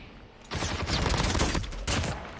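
Rapid gunfire in a battle royale shooter, dense bursts of shots from about half a second onward, loud and continuous with short breaks, no voices over it.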